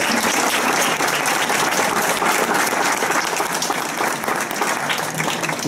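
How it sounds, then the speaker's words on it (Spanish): Sustained audience applause for a fencer after a demonstration of 15th-century knightly duel fencing, dense and steady throughout without breaks. "un aplauso a Luigi, por favor."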